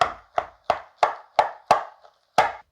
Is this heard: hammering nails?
no